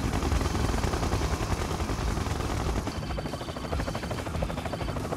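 Siege Chopper helicopter in the video game Red Alert 2: Yuri's Revenge, a dense, steady rotor roar with rapid chopping, loud and continuous throughout.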